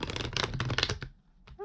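A deck of cards is cut and shuffled in a quick burst of close riffling flutters lasting about a second, followed by a brief tap and a voice speaking.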